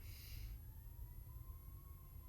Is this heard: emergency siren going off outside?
yes